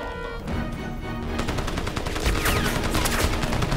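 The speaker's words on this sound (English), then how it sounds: "they have like the heavy machine guns pointed at me" Heavy machine guns firing in Crysis, a dense, continuous rattle of rapid shots that swells louder and nearer, with no talk.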